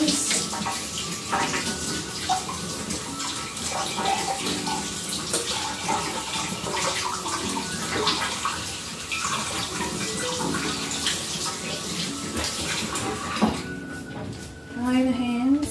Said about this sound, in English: Now, wash the hands.